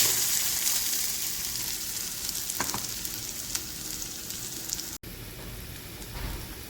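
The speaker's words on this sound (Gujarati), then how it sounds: "એને ગેસની ધીમી આંચ ઉપર હલાવતા રહીશું" Grated green coconut stirred in a pan over a low gas flame while making coconut halwa, giving a steady soft sizzle with faint scraping, close and continuous with no voices.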